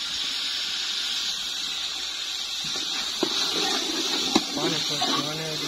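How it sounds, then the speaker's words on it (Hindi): Chopped tomatoes fry in ghee in a pan while cooking village-style beef degi korma, giving a steady, bright hiss throughout. A voice speaks over the sizzle in the second half. "अब इसमें हम ये 2 टमाटर काट लिए मैंने, इसको ऐड करेंगे। इनको अच्छे से भून लेंगे।"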